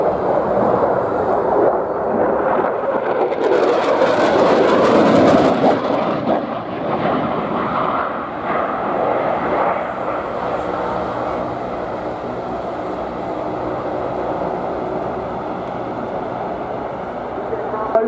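An Austrian Air Force Eurofighter Typhoon jet sweeps past at an airshow, a loud broadband roar that swells to a peak and then trails off into a sustained rumble, with a commentator talking over it.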